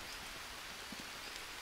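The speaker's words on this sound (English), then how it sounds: "So there's the rain." Steady rain pours down in the survival video game Green Hell, a dense even hiss of drops on surfaces filling the whole moment without any voices.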